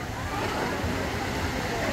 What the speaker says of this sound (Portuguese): É forte a pressão. Ó, aqui fica caindo a água.